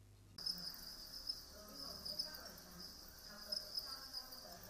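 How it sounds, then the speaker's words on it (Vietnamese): Crickets raised on a cricket farm in Lam Dong, Vietnam, chirp in a dense, steady, shrill chorus that starts abruptly and carries on continuously, fairly soft and close. "hẳn có thể tưởng tượng được cảnh đang đứng giữa cánh đồng nghe tiếng dế rầm rang"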